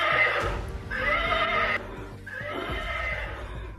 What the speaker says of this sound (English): They find a toy horse making unexplained noises